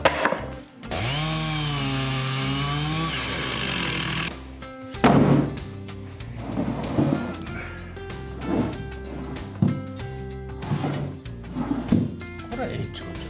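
Chainsaw slicing a log into thick round rounds for table legs, a loud sustained high whine for several seconds, then knocking and handling of heavy wood with people talking.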